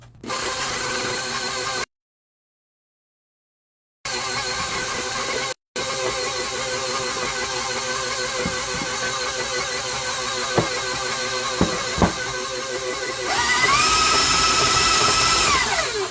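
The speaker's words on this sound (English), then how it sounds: "put it in the mixer. And then turn it back on." A stand mixer mixes plum pudding batter with a continuous mechanical whir and rattling hum, close and steady, with a few sharp knocks near the end and a higher motor whine in the final seconds.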